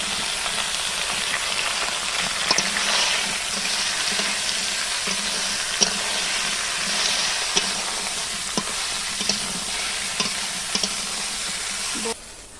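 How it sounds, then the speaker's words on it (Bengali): Okra and potatoes fry in hot oil tempered with cumin seeds, a steady close sizzle with occasional light clicks of stirring and no talking. "ভেন্ডি আর আলু এই দিয়ে দিলাম।"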